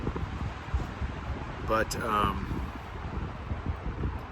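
Low rumbling wind buffets the microphone throughout at a Wyoming campground, with someone briefly speaking over it midway.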